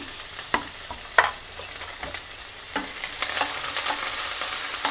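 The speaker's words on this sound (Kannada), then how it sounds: "ಸ್ವಲ್ಪ ಫ್ರೈ ಆಗಬೇಕಿದೆ ಈರುಳ್ಳಿ ಫ್ರೈ ಆಗ್ತಾ ಇದೆ" Chopped onion, urad dal and curry leaves fry in a pan for an ivy gourd stir-fry, giving a steady close sizzle broken by a few sharp stirring scrapes and spatters, with no talking.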